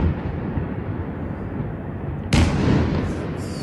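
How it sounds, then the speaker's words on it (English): An air defense attack on Kyiv brings a sudden sharp blast from a missile explosion partway through. It cuts through the low, steady rumble of the city at night and leaves a ringing, rolling tail. "You hear the explosions in the nearby area of the city."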